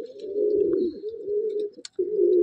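Madrasi pigeons of an old bloodline at a loft in Sodhpur coo in steady, rolling low calls close by, with a short pause near the end before the cooing resumes.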